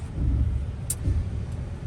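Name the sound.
RAM car engine while driving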